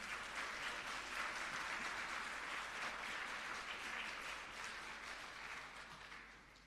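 A round of applause from the audience at a coding academy graduation ceremony, steady and fairly distant, with no voices over it, gradually tapering toward the end.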